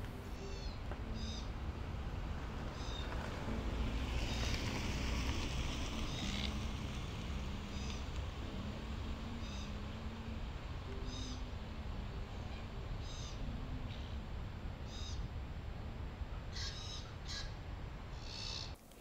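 Glossy black-cockatoos give repeated squawking calls at varied distances over steady background rushing noise, with a few sharper high call notes throughout.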